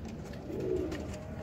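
Teddy pigeons on a rooftop in Sialkot give a brief, soft, throaty cooing that rolls steadily for a moment at close range.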